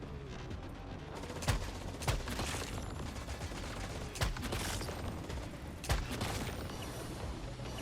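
Rapid gunfire from a Gatling gun in the video game Once Human, sustained bursts with several heavier impacts standing out, loud and with no talk over it.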